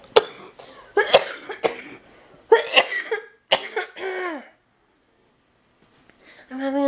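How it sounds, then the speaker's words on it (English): A dry coughing fit indoors, with several sharp, harsh coughs in close bursts, then a pause before a voiced throat sound at the end. "I'm having a coughing fit."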